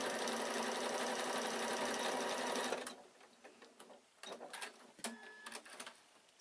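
A sewing machine stitches a quilted evening bag, a loud fast steady whirr for about three seconds before stopping, followed by quiet handling clicks and rustles.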